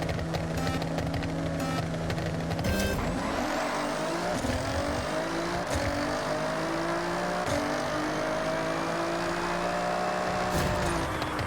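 A Nissan GTR drag car in Forza Horizon revs hard and launches down a quarter-mile drag strip, its engine rising through repeated gear shifts, loud and close throughout.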